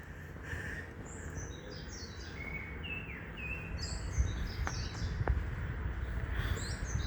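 A caught bird chirping in short high bursts scattered over a low rumbling background, fairly faint, with a couple of sharp clicks and no talking.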